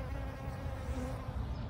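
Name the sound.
bees buzzing around dragon fruit plants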